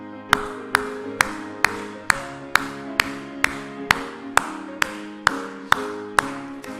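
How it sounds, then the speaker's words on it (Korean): A church congregation claps in unison along with a hymn. About fourteen sharp, evenly spaced claps ring out over sustained musical tones. "우리 191장 우리 박수하면서 함께 찬송합시다."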